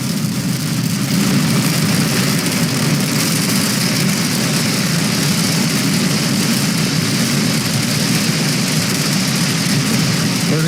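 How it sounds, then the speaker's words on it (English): A SpaceX Falcon 9 rocket climbing at night on its Merlin 1D engines, a loud, continuous broadband roar with a deep rumble that holds steady and unbroken throughout. "Seconds into flight, propulsion says the Merlin 1D engines are nominal."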